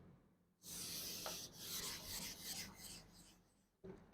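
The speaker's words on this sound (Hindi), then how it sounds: "इसको थोड़ा सा मैं रब कर देती हूँ" Rubbing on a board to wipe off handwritten grammar notes, a steady scratchy rasp lasting a few seconds with a brief pause and a fresh stroke at the end.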